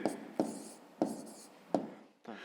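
Pen writing numbers by hand on paper during a fifth-grade maths exercise, heard as four short bursts of close scratchy strokes separated by brief pauses, with no talking.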